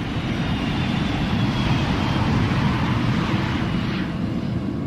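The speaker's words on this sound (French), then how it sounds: "L'avion décolle." An Airbus A310 airliner takes off, a loud, sustained low-frequency engine roar with steady rumble and a faint higher whine, continuous throughout with no voices.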